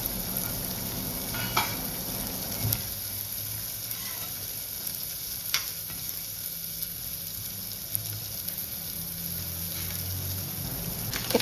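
Chicken soup cooks in a pan on a home kitchen stove, with a soft continuous sizzle and hiss punctuated by occasional faint clinks of stirring.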